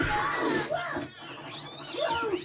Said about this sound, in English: Aww, it's a little kitty.